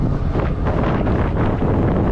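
Wind buffets the microphone during an urban e-bike ride, a loud, continuous low roar and rumble filling the whole clip with no voices.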